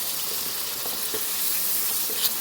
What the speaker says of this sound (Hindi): भूनते जाएँ इसे 5 मिनट के लिए भूनें